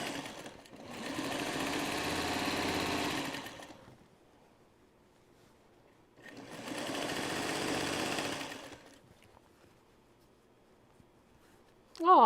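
A sewing machine stitches binding onto a Trellis Garden quilt in two long steady runs of rapid whirring, each about three seconds, separated by quiet pauses, close and clear.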